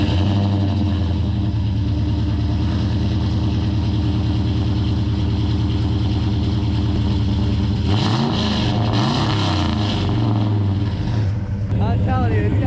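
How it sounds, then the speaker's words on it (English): An LS-swapped SWAT truck's V8 engine idles with a deep, steady, loping rumble close by, then is revved hard in a few rising bursts before settling back down. "It's the meanest sounding SWAT truck on the road."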